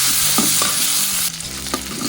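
Chopped tomato sizzles and fries in a hot pan, with a steady hiss and occasional scraping strokes of a spatula stirring it around.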